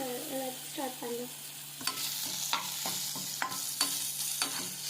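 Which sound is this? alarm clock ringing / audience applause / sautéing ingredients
sautéing ingredients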